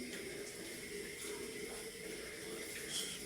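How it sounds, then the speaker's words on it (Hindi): Water is poured into a thick potato and green chili curry gravy in a pan, making a steady, soft splashing stream throughout. "अब इसके अंदर मैं थोड़ा सा पानी डालूँगी"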